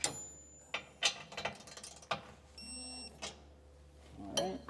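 Bolts being snugged back down on a PullRite SuperGlide 5th wheel hitch, giving a run of close, quiet ratcheting clicks and metallic ticks in short bursts with brief pauses between them.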